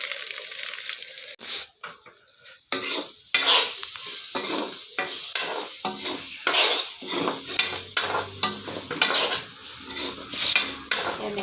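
Lentils hit a pan of frying ginger, garlic and onion: a brief clatter and pause, then a loud close sizzle with rhythmic spatula stirring and scraping against the pot.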